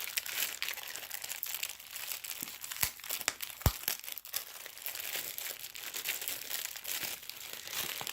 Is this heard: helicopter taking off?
no